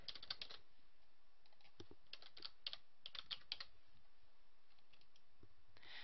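Someone types a name on a computer keyboard: quiet, irregular bursts of crisp key clicks tapped close by, with short pauses between groups of keystrokes and no voices.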